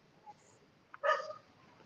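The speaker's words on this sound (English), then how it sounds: "We got so many dogs." Dogs at a home on the side of a mountain give a short burst of barking and yipping, a brief single outburst at moderate distance with a faint earlier yelp.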